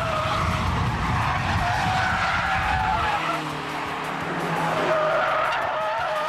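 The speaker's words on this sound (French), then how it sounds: "On est à 180 à peu près pour un freinage sur 150 mètres." A Renault Clio race car at about 180 km/h brakes hard and slides, engine roar dropping as tires scrub and squeal, loud and close throughout with no talk.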